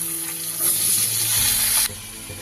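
Cut potato pieces fry in hot oil already used for frying fish, giving a loud, close, continuous sizzle that swells briefly and then eases.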